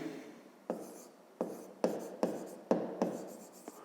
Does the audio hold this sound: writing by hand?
yes